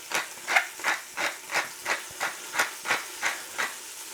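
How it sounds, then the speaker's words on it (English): Mushrooms, onion and baby leeks sauté in a pan, heard as a close hissing sizzle that swells and fades in a regular rhythm about ten times, like repeated stirring or tossing. No one speaks. "So we're just gonna saute that."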